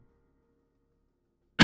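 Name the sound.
cough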